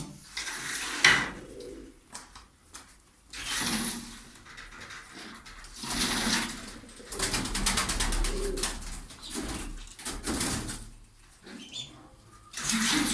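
Young pigeons chirping and cooing close by, one held in hand, with soft rustling and handling noises between the calls.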